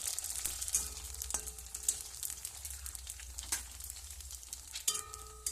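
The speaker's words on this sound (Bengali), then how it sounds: "এইভাবে আমি সম্পূর্ণ ফুচকাগুলো ভেজে নেব।" Fuchka puris frying in oil give a soft, steady sizzle, quiet and close, with a few occasional light clinks from the pan or utensil and no talking.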